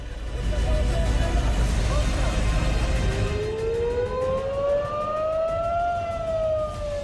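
Civil defense air raid siren in Tel Aviv, a rising wail that sweeps upward and holds, entering midway over a loud rumbling street backdrop with traffic noise and voices.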